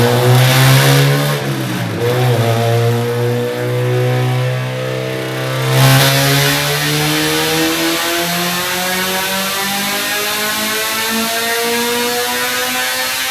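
A loud race car engine revs hard on a dyno, its pitch sweeping up and holding at high revs in a sustained mechanical roar, close by with no talking.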